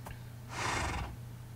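A Minecraft horse gives a single short, breathy neigh lasting about half a second, moderately loud over a steady low background hum, in a rainy game scene.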